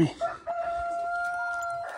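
An injured rooster crows once, a long, thin, wavering call held for over a second, a little distant, amid faint background noise in an enclosed space.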